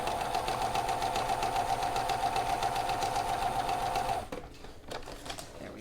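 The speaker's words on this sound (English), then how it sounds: "we are just going to stitch" A sewing machine stitches scrappy quilt block pieces together, a steady, close, fast-running hum and needle clatter that stops abruptly near the end, leaving quieter handling sounds.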